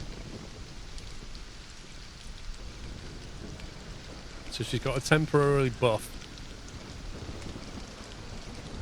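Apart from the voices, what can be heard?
rain falling in video game Stranded: Alien Dawn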